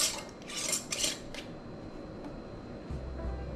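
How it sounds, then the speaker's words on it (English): A clean metal lid being set onto a home canning jar of spaghetti with meat sauce, with a few close light metallic clinks and scrapes at the start, then quiet handling noise. "Put a clean lid on."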